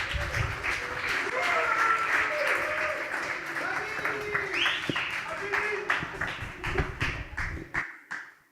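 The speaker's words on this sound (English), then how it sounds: "So great applause for Abrar." Audience applause following an app presentation at a coding bootcamp demo day, a dense sustained burst of clapping that tapers off near the end, with some voices mixed in.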